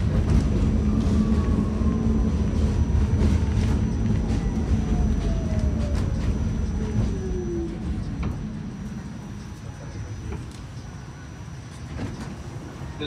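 A New York City subway R46 A train bound for Far Rockaway rumbles steadily along the track, with a high whine sliding downward as it slows and a constant tone above.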